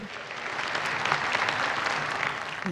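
Steady, dense applause from a sizeable crowd, loud and continuous throughout with no talking over it.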